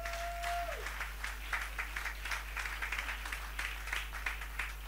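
A church congregation applauds during a service, a steady, dense patter of many hands clapping at a moderate distance over a low constant hum, with a brief tone fading at the start.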